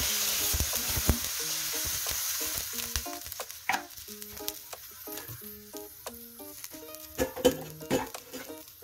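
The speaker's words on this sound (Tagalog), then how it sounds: "lagyan muna natin siya ng konting water pang luto sa karne" Pork and vegetables sizzle loudly in a pan after a splash of water is added, with crackling and spitting plus occasional clinks of a utensil stirring against the pan.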